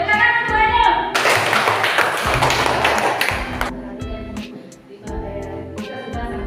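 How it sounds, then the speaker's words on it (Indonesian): A group of participants claps together during a teacher coaching session, a short burst of hands amid tapping and knocks, with a voice and some tonal sounds around it. "Tepuk tangan semuanya."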